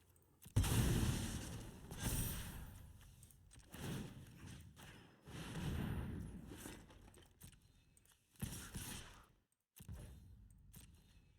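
A cannon firing in a Final Fantasy card game, a series of booming blasts with rumbling tails, several heavy hits spaced unevenly over about eleven seconds, loud and near with brief silences between.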